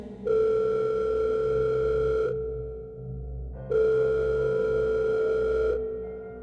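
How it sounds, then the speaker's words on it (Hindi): A telephone rings in two long electronic bursts separated by a short gap, steady-pitched and fairly clear, with no voices. "पॉकेट में रखा उसका फोन बज उठा"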